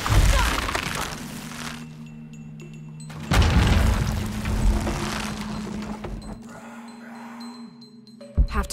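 Explosion in the video game Shadow of the Tomb Raider, with heavy booming blasts, crashing and shattering debris, and low rumbling that swells, eases and returns with a final sharp crack.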